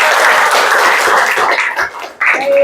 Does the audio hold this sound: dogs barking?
no